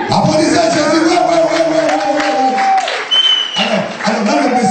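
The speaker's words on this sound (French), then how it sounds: "Applaudissez Jésus, ouais." Congregation applause during a church sermon, loud crowd clapping and cheering mixed with voices and musical tones, a continuous dense wash with brief dips.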